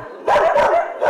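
Dogs barking close by in a few sharp, loud barks, one after another, with a short gap before the last.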